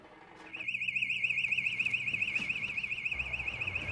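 A burglar alarm starts up and rings continuously, a loud, warbling electronic tone that pulses rapidly and holds steady, heard alone without voices.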